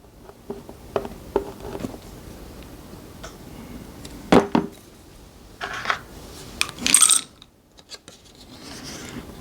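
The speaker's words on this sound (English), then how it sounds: "Good old noisy dice shakers." Dice rattle in dice shakers during a vintage APBA baseball tabletop game, heard as scattered clicks and several louder bursts of shaking and clattering up close, with quiet gaps between.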